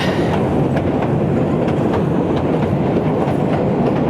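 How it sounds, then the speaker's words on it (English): A long passenger train with many carriages passes close by on a single track, a loud continuous roar with rhythmic clickety-clack of wheels over rail joints throughout. "Quite a noisy train."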